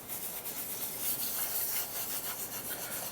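Fingers gently rub loose flake over a glued surface, giving a soft, steady, close brushing hiss that continues without a break.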